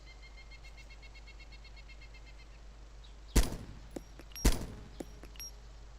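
Two loud, sharp reports from a Mark 17 rifle firing 7.62 rounds in Arma 2, spaced about a second apart over a quiet outdoor ambience with faint bird chirps.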